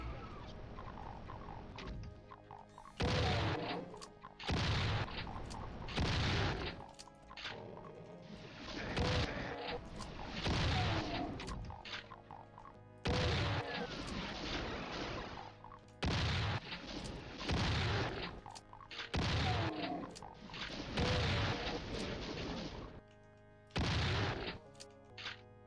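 Shotgun-wielding enemies blasting away in a modded Doom game, a long string of loud booming shots in irregular clusters with short gaps, heavy and close throughout, no talk over it.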